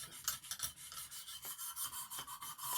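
A Boker clip point knife blade rasps back and forth across a Lansky diamond sharpening stone in a steady rhythm of gritty strokes, growing quieter as the edge refines, close and fairly quiet.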